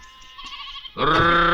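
A sheep bleats loudly while being herded, one long wavering bleat that follows a few quieter, indistinct sounds.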